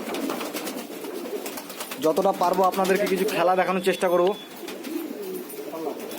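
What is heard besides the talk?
giribaz fancy pigeons cooing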